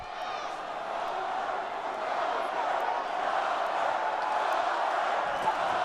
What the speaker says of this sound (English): The hometown crowd trying to give Bud Crawford an energy boost by chanting his name.